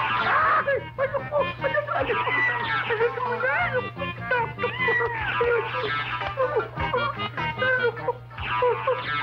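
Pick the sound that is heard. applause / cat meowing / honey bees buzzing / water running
cat meowing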